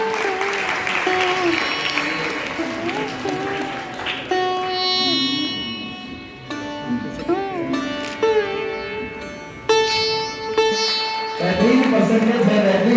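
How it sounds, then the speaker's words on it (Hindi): Applause for honoured students at a ceremony in Aurangabad, a steady wash of clapping that continues under loud music with a voice carrying over it. "जोरदार तालियां साथियों"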